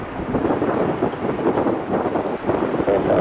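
Strong microburst wind gusts sweep across an airport runway, a continuous loud roaring rush of air buffeting the microphone with rising and falling surges, close and unbroken.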